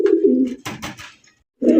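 A red bar pigeon coos close by on a loft, with two low throaty coos separated by a brief pause and a few softer breathy notes.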